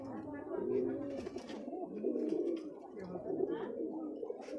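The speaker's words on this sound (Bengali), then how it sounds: "কবুতরটা মূলত জাক কবুতর, আপনারা দেখতে পাচ্ছেন খোপের মধ্যে আছে, সে ডাকছে।" A jak pigeon coos inside its coop, a soft, low, rolling call repeated several times, faint and close, with a voice talking quietly over it.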